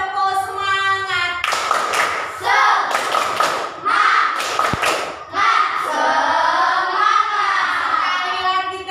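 Elementary school students perform the 'tepuk semangat' cheer, chanting in unison with bursts of rhythmic group clapping and thumps, and children's voices sing between the claps.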